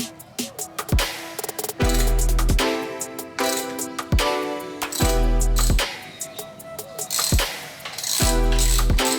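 A ratchet wrench clicks in repeated close bursts while bolts are tightened on the top triple clamp of a 2020 Ducati Panigale V4S, with brief metallic pauses between strokes.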